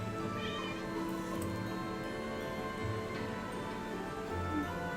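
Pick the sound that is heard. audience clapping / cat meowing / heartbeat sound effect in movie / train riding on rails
cat meowing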